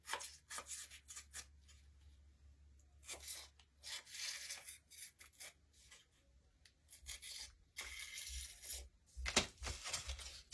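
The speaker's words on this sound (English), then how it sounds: "Then I take my X-Acto knife and run it down." An X-Acto knife drawn along a Dollar Tree pallet sign, producing bursts of dry scraping and rasping strokes separated by short pauses, close and quiet with no talking.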